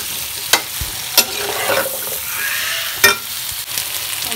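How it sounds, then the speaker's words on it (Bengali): Eggplant and potato pieces fry in a pan with turmeric, giving a close, steady sizzle punctuated by a few sharp clacks of a spatula stirring and scraping. "বেগুন আর আলুটাকে সুন্দর করে ভেজে নেব"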